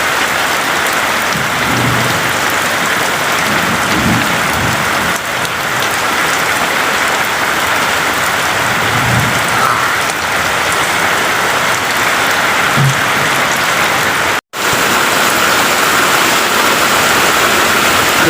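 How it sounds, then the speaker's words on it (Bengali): Heavy rain pours down steadily in Turki, Gournadi, Barishal, Bangladesh, a dense, even roar of falling water that barely wavers, with faint low rumbles beneath it. "দেখুন কত সুন্দর বৃষ্টি হচ্ছে আমাদের এখানে"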